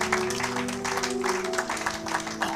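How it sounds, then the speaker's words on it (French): A church congregation claps in a steady rhythm, the beats landing in repeated bursts over sustained musical tones at moderate volume. "Acclamez pour la gloire de notre Dieu"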